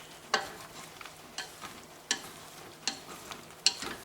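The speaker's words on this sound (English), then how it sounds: "After 15 minutes, you stir it." Food stirred in a cooking pot at home. About five sharp spoon knocks and scrapes come at roughly regular intervals over a faint, quiet background with a low simmer.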